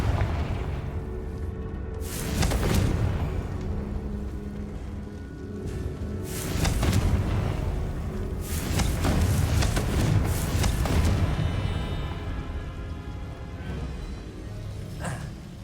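Fiery Confringo spell blasts in Hogwarts Legacy, several heavy booming explosions in succession with long rumbling tails over continuous game noise.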